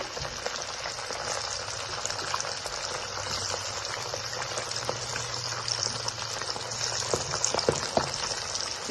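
Fish pieces frying in hot oil keep up a dense, continuous sizzle throughout, with sharp pops and crackles growing more frequent toward the end, and no talk.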